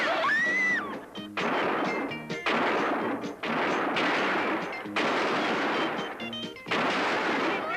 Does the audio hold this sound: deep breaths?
no